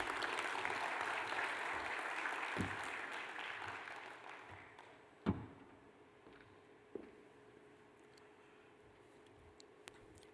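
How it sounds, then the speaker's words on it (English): Conference audience at an Indo-French investment conclave in Hyderabad applauding, a broad wash of clapping that fades out over several seconds, followed by near silence with a few faint clicks. "Can we have a round of applause"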